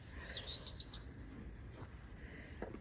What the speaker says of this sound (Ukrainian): Пташечка, дивіться, де сидить. На моїй хаті на самому вершечку і співає.